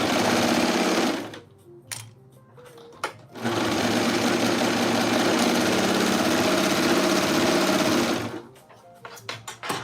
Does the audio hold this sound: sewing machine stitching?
yes